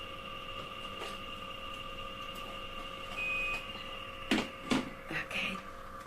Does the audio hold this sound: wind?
no